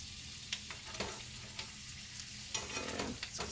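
A ribeye steak sizzles in butter in a cast iron pan, a steady, moderate frying hiss with a few soft knocks and shifts as the meat settles, no voices.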